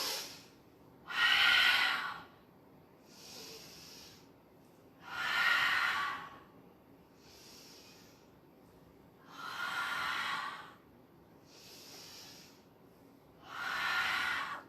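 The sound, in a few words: deep breathing during breathwork exercise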